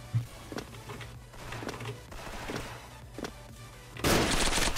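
Rapid bursts of gunfire in the online shooter Special Force, with clustered shots and a loud, dense burst near the end, amid game noise.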